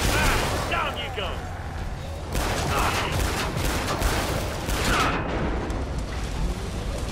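Automatic AA-12 shotgun blasts in Killing Floor 2, a rapid run of loud, close shots amid chaotic combat noise, with someone talking over the gunfire.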